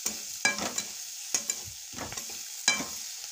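Tempered rice fries in a pan as turmeric powder goes in, with a soft steady sizzle broken by several distinct scraping stirs of a spoon against the pan, close and clear.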